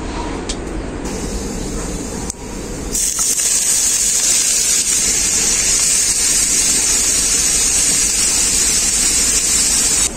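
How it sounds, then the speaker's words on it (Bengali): Grated cauliflower dropped into a pan of hot oil with fried whole cumin, a loud steady sizzle that swells suddenly and then hisses on continuously. "এরপর গ্রেট করা ফুলকপিটা দিয়ে দেবো এর মধ্যে।"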